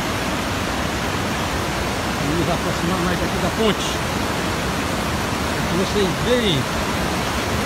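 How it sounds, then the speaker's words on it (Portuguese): River water from the Acaraú at Sobral, Ceará, running full and pouring over a weir's spillway near a bridge, a steady broadband rush heard close and continuous beneath a man's speech. "E água corrente, água viva."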